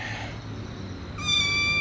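A cat lets out a sharp, high meow late in the moment after a stretch of low background noise; the call is close, loud and bright, then cuts off abruptly.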